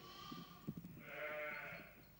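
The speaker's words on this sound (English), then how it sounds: "At Desmond Patterson's farm, sheep keep warm within the ruins" A sheep sheltering in farm ruins during a heavy spring snowfall gives one wavering bleat, close and fairly clear, against a quiet, muffled background.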